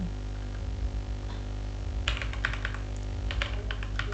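Typing a command on a computer keyboard, with a quiet pause and then a close burst of quick clicking keystrokes over a steady low hum, no speech.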